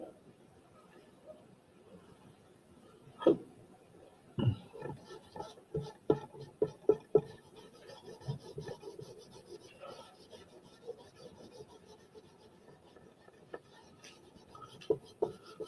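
Graphite eraser rubbed clean in short, scratchy bursts, a few sharp louder strokes standing out over soft continuous scrubbing, close and fairly quiet with no talking.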